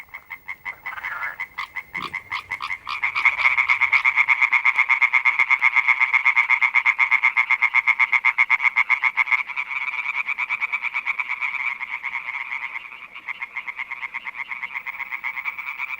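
Male tree frogs calling at dusk beside water, a dense, continuous chorus of rapid, rattling croaks, loud and close, pulsing steadily with no voices.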